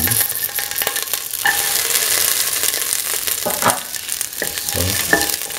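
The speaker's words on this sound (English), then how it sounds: "put in the shallots and the garlic" Shallots and garlic sizzle steadily in a hot pan, with a bright, close frying hiss and occasional stirring scrapes and clinks as the pieces are moved around.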